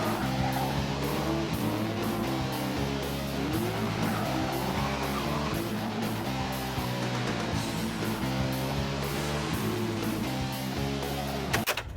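YearOne's black Bandit-style Burt Reynolds Trans Am driving, with a steady low engine rumble and road noise heard continuously from inside or close by, with no talking.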